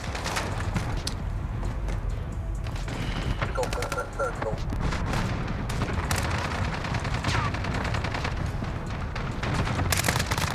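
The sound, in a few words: cluster strike explosions in video game Call of Duty Modern Warfare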